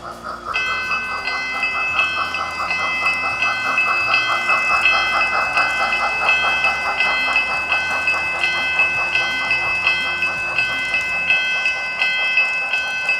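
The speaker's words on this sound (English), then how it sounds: "The MTH Tinplate train I run underneath my Christmas tree every year." An MTH Lionel 263E orange and blue tinplate O-gauge toy train runs around a track beneath a Christmas tree, with steady rolling clatter, rhythmic wheel clicks and a repeating high chime-like tone throughout.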